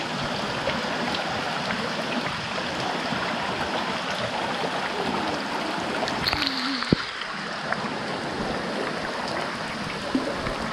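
Warm water trickles out from under a rocky overhang beside a river valley, making a steady, soft babbling wash with a few faint knocks and no talk.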